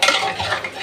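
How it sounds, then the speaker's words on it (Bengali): Potatoes are stirred and fried with beef in a pot, a brief scraping stir of a utensil against the pot with a light sizzle underneath. "আলুগুলো দিয়ে একসাথে কষাবো"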